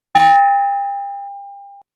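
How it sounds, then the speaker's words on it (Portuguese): A single virtual bell chime rings out to open a Rotary club meeting, one clear bright strike that decays slowly over about a second and a half, heard alone with no talk. "a gente vai ter um sininho virtual começando hoje"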